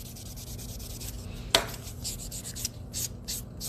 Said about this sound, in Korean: 이렇게 오버레이 한 다음에 샌딩 한번 할게요